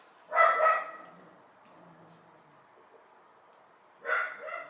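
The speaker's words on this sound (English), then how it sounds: "She just lets them bark." A neighbour's dogs bark in two short bursts a few seconds apart, fairly distant and muffled, with quiet room tone between.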